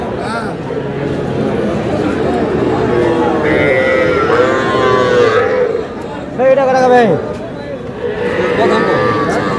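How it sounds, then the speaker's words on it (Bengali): A young bull calf lows loudly and close by, drawn-out calls rising over a busy, noisy cattle market crowd with people talking and bargaining. "ষাঁড় বাচ্চা"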